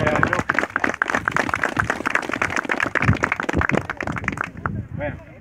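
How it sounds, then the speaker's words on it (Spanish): Brisk applause from a crowd at a pilgrimage gathering in Campo Quijano, Salta, dense rapid clapping that continues for several seconds before fading out, with a voice briefly heard at the end. "Así que un fuerte aplauso para el grupo"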